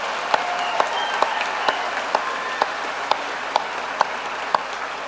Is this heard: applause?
yes